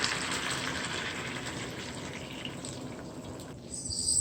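Honey garlic ginger sauce poured over chicken breast, a steady liquid pouring and splashing that runs for about three and a half seconds before thinning out, close and alone with no talk.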